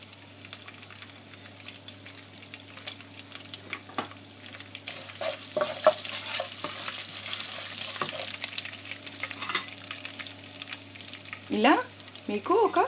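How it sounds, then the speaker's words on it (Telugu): Chana dal, ginger and green chilies frying in hot oil for a banana stem curry, a steady sizzle with intermittent spoon scrapes and stirring clatter throughout, louder stirring near the end. "ఇలా మీకు ఒక గోల్డెన్ బ్రౌన్ కలర్ వచ్చేంత వరకు ఇవన్నీ ఫ్రై చేసుకోవాలి"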